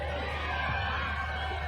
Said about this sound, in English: Now the crowd's enjoying every bit of this